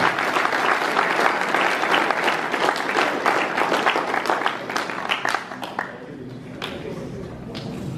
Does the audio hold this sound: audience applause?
yes